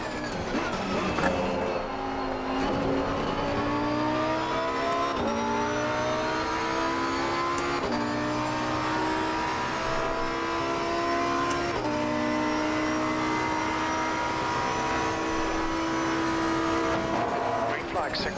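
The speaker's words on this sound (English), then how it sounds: "I had to shift down to second to get the RPMs higher" Race car engine in Assetto Corsa Competizione, whining through repeated gear changes with rising revs and sharp shift breaks, loud and steady throughout with a voice talking over it at times.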